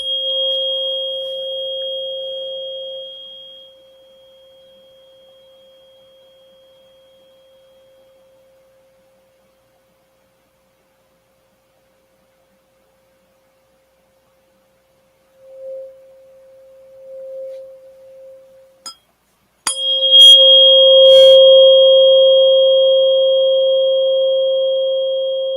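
Steady electronic tones, a pure pitch with a higher partner, sounding for a few seconds, fading to silence, then returning louder with brief clicks and a sustained beep.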